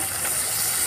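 Water poured into a hot pan of spiced tomato masala with cumin and chilli paste sets off a loud, steady sizzling hiss that fills the whole moment.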